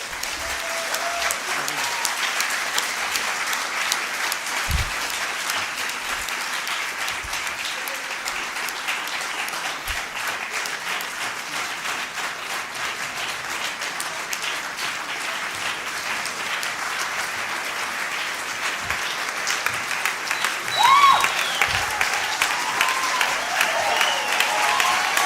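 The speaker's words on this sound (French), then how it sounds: "Un tonnerre d'applaudissements" Sustained loud applause from an audience at the RFC12 2017 closing ceremony fills the whole stretch, a dense steady clapping crowd with a brief swell near the end.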